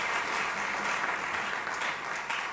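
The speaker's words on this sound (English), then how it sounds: "Big round of applause" An audience at a Latin jazz concert claps in a steady, full round of applause that keeps a dense, even texture and fades slightly near the end.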